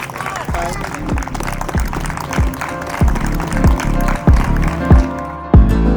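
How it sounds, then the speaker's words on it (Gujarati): Clapping and cheering from guests at a baby shower party, a steady crowd applause with rhythmic sharp claps, heard under music and voices. "વધારે તાળીઓ થવી જોઈએ આના પર."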